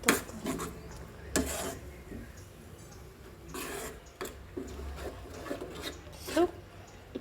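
Onion garlic chutney is mixed in a bowl with repeated scraping and rubbing strokes, irregular and fairly close, with brief louder clatters against the bowl over a quiet background.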